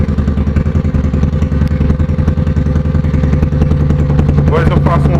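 A motorcycle fitted with a loud aftermarket 'boca 8' exhaust rumbles steadily at close range, a deep throbbing engine note with rapid pulsing that holds throughout, with a brief voice near the end.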